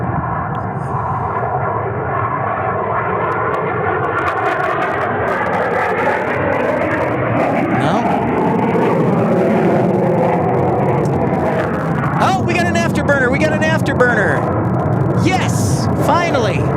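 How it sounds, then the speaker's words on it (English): An F-16 fighter jet lights its afterburner on takeoff at Tucson International Airport, a loud, broad rushing roar building over the whole stretch while people talk excitedly throughout. "finally, our first afterburner of the night."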